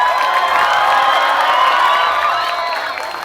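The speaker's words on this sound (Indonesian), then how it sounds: "Berikan tepuk tangan terkencang kita teman-teman buat Atta dan Yonglek." An audience at an Atta Halilintar stage show cheers and applauds loudly, a dense continuous roar of shouts and clapping that fades slightly at the end.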